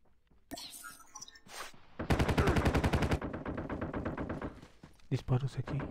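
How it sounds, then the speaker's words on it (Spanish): Call of Duty Mobile gunfire from a Type 19 assault rifle, a sharp burst of rapid automatic shots lasting about a second, then scattered quieter shots and game sound effects, with soft talk nearby. "Disparos aquí."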